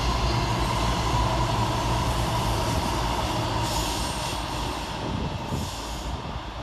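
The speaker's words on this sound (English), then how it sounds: "Another one over on the fast line is 220029 and 221139, working 1 Victor 48 from Newcastle to Bristol Temple Meads." Class 220 and 221 diesel multiple units passing on the fast line at Lawrence Hill station, Bristol: a steady, loud rumble and roar with wheel noise that continues throughout, fading slightly toward the end.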